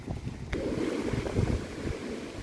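Wind gusting outdoors around young avocado and mango trees that are outgrowing their wind barriers, a steady rushing roar with microphone buffeting, one sharp knock near the start, and no talking.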